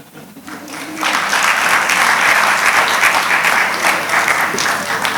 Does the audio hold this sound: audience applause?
yes